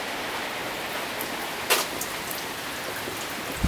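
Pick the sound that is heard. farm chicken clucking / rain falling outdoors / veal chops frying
rain falling outdoors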